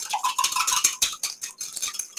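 Salad dressing with fire cider whisked in a bowl, a rapid, close series of scraping clinks from the whisk against the sides, steady and lively for a couple of seconds with no voices.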